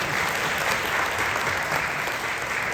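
Dense, steady audience clapping carries on without pause through the whole short stretch, even and fairly loud, with no voice rising above it.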